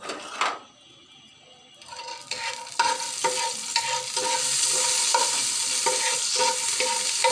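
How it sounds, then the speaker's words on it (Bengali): Raisins and almonds are stirred and fried in a pan for a sweet rice dish. An initial clatter gives way to rising sizzle with repeated spoon scrapes and metallic clinks against the pan, frying loud and steady by the end. "দিয়ে এগুলোকে নেড়ে চেড়ে হালকা করে ভেজে নেব"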